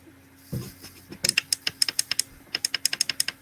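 Typing on a computer keyboard picked up by a nearby microphone, a brisk run of crisp key clicks after an initial bump, steady and close with no talk.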